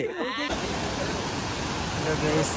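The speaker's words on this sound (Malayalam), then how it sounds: "ഞങ്ങളിതാ അടുത്ത വെള്ളച്ചാട്ടത്തിന്റെ ഏരിയയിൽ എത്തിയിരുന്നു" Steady broadband rush of a waterfall in a Palakkad forest, loud and continuous, with a brief burst of voices at the start before the roar takes over.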